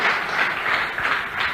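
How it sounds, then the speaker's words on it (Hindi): Audience at a seminar-style motivational talk applauds for people in the room, a steady wash of many hands clapping that rises and falls slightly over a second and a half. "जोरदार तालियां इनके लिए"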